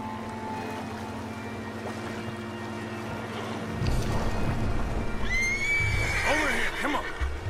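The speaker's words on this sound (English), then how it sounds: "The horses are confused. We need to round them up." Horses neighing and whinnying in Red Dead Redemption 2, several rising cries in the latter half over steady game ambience and low rumble, with speech present.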